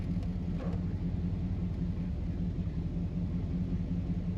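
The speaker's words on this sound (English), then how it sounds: "Nice rumble at idle too." A 1955 Chevrolet 210 two-door post idling, a steady deep low rumble with a slight regular pulse, close and continuous with no talk.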